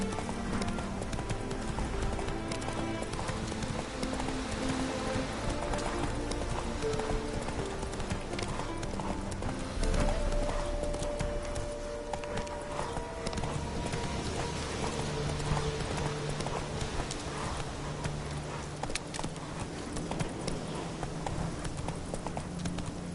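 Galloping horse hooves from a PlayStation 4 video game, a steady rapid clip-clop running continuously throughout with game music and ambience layered underneath.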